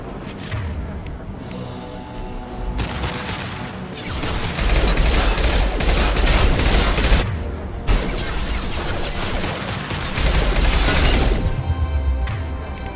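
High-impact shots and heavy gunfire in Mass Effect 2: a dense, loud stretch of cracking shots and crashing impacts that swells into long roaring bursts, close up and continuous, with no talk.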